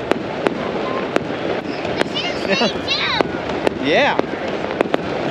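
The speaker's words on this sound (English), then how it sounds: "Looks like we have some fireworks on the beach back there." Fireworks go off over a beach at a Bulgarian resort, with sharp cracks and whistling rockets scattered through the clip, heard at some distance under outdoor wind noise while people talk nearby.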